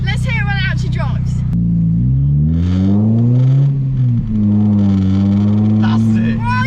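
Mini Cooper fitted with a loud custom exhaust, driving off with a steady deep engine drone that rises and falls through the gears, close and loud, with people talking over it.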